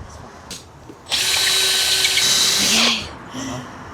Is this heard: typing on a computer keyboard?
no